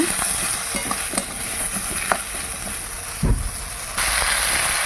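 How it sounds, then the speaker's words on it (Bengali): Ridge gourd and potato pieces fry lightly in oil, giving a soft continuous sizzle broken by scattered scrapes and knocks of stirring. "ঝিঙে আর আলু তেলের ওপর দিয়ে দিলাম আর ঝিঙে আলুটা খুব ভালো করে ভাজবো না হালকা করে ভাজবো"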